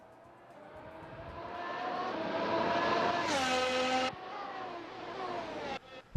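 Race cars start a race in a sim racing video game at the 2024 Sim Racing Carnival in Singapore, with engines revving and rising in pitch, an abrupt cut, then more engine roar and a final thump.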